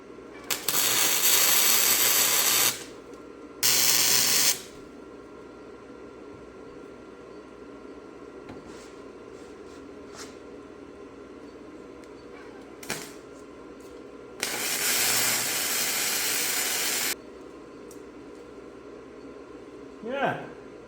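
Welding a spindle gusset on a 2000 first-generation Toyota Tundra, three loud crackling hisses of a few seconds each separated by quiet pauses, with faint clanks and someone talking in the gaps.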